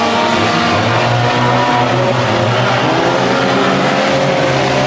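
A race car engine keeps running after a spin on a speedway oval, roaring loud and continuous with steady harmonic tones as it rolls back up the track and keeps moving; no voices.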